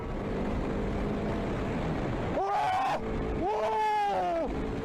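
A man riding a motorcycle screams twice in quick succession, his voice rising and wavering, over the steady roar of the engine and wind rushing past.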